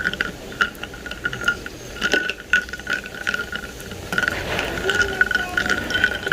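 A spoon stirs iced chocolate coffee made with Oatly in a glass, giving repeated close clinks and scrapes of ice against the glass in an irregular rhythm with no talking.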